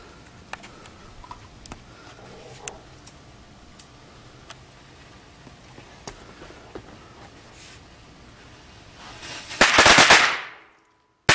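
A firecracker sets off on a Samsung phone: sparse ticking crackles from the burning fuse come first, then a loud, fizzing burst of explosion near the end that cuts off abruptly.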